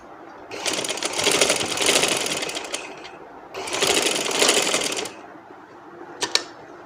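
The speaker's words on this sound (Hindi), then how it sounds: "और इधर से ऐसे सिलाई लगा लेंगे।" Sewing machine stitching a dress, two long rapid mechanical runs of needle chatter separated by a pause, then a brief final burst, loud and close with no talk.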